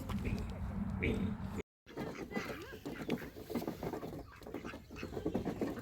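Ducks quacking at an adventure-park animal farm, mixed with other animal calls and people talking nearby; a busy, continuous outdoor scene with a brief dropout.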